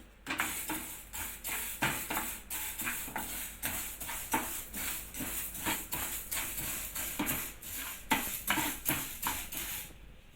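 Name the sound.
dry-roasting coriander seeds in a pan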